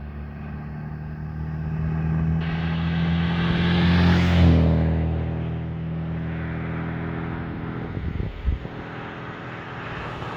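A 1971 Oldsmobile Ninety Eight engine drones steadily, swelling as it passes close by and then settling to a lower hum, ending with a few sharp knocks.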